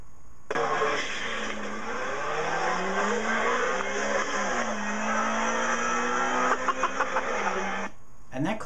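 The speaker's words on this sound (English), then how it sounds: "It's called the Tango, and it can do 0 to 60 in under 4 seconds." Tango electric sports car accelerating, a rising whine that climbs steadily in pitch for several seconds, loud and close, with a person talking over it and a few clicks near the end.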